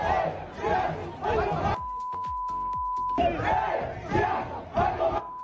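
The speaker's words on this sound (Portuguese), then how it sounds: "ontem a torcida tava muito revoltada aqui com o Gerson, né? Aqui naquele Aeroflá" Angry Flamengo football supporters chant loudly at an airport, their massed voices roaring in rhythmic bursts with a brief lull in the middle, and a steady high electronic tone runs beneath part of it.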